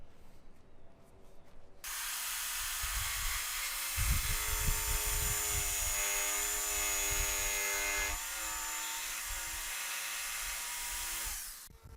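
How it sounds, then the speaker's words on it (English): A jigsaw cuts a wooden desktop piece with a steady, whining buzz that runs for about ten seconds before it stops; close and loud, with no voices. "I'll cut that with my jigsaw on both sides"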